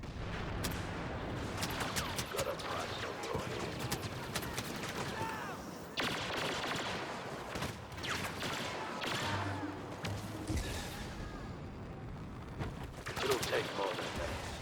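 Blaster and rifle fire crackles in rapid bursts during Star Wars Battlefront gameplay, with sharp dense shots, distant booms and explosions layered throughout, moderately quiet overall.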